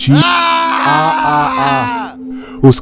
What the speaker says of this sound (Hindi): चीख रात के सन्नाटे को चीर गई